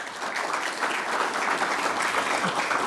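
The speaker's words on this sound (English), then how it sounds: "Give him a round of applause." At a veterans expo panel, a crowd gives a speaker a full round of applause, a continuous, even patter of clapping that holds steady throughout without voices on top.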